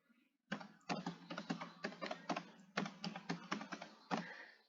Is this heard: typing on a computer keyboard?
yes